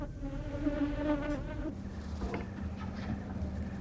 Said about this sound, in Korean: 드디어 말벌의 공격 개시.